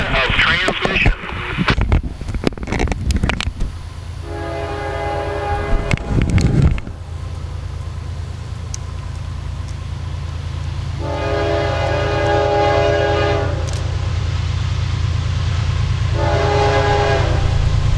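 Southbound freight train nearing the Hilliard crossing in North Florida, its horn sounding in repeated long blasts over a steady rumble of rolling cars, with loud handling noise at the start.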